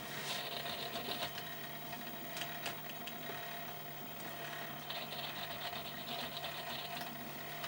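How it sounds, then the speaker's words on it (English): A cassette tape deck running in rewind, with a steady mechanical whir and faint ticking and rattling that holds at an even level throughout. "Let's put it in reverse. Rewind the tape."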